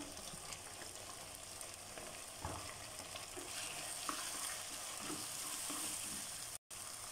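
Onions and tomatoes sauté in hot oil for fish curry with a steady, close sizzle and crackle, broken by a few soft stirring scrapes. No voices are heard.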